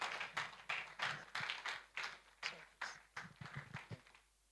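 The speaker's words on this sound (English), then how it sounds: "If you're clapping, clap properly, make it count and make it loud." Claps at a commemoration ceremony land as sharp separate strikes in a loose, roughly regular rhythm, quite faint and from only a few hands, quickening slightly before stopping.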